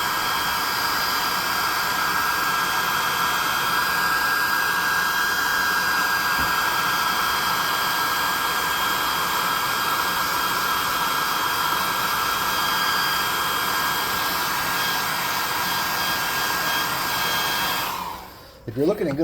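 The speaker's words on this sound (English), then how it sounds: "using the +2 hot air gun of burning, I have it on a low setting. I'm just trying to dry the majority of it" A hot air gun on a low setting drying paint on a tabletop game miniature, a steady loud whooshing blow that runs unbroken and then cuts off near the end.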